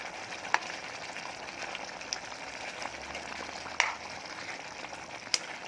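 Chicken curry simmering slowly over low heat in a pot, a steady soft bubbling hiss with a few small pops, faint and continuous throughout.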